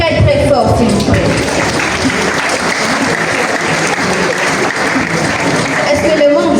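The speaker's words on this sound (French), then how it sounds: "Est-ce qu'on peut les applaudir très très fort s'il vous plaît?" A large audience at a ceremony honouring African students breaks into loud, dense applause, continuous throughout, with voices and cheers mixed into the clapping.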